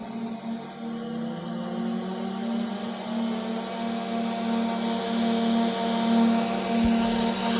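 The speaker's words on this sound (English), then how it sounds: "All right, so now all the machine is running" Spindles of a Profimat 50 machine start up one after another and settle into a steady, continuous mechanical hum with a strong low drone, loud and unbroken, with a brief low thump near the end.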